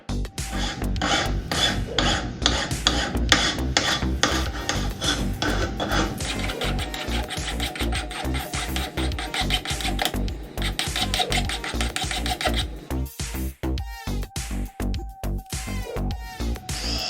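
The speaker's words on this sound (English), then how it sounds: "When cutting iron, there are usually metal splinters and sharp edges that we can remove using a" A flat iron file rasps along the cut edges of angle iron during a bathroom sink cabinet install, rapid rhythmic back-and-forth strokes, loud and close, briefly pausing before resuming with harsher scraping.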